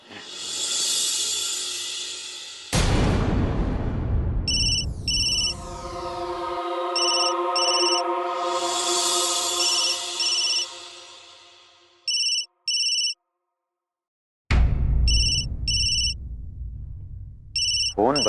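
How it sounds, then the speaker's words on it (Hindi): A phone ringtone plays in repeated bursts of a bright electronic melody, stopping briefly and starting again, loud and close with nothing else over it. "फोन बज रहा है बेटा, उठा ले।"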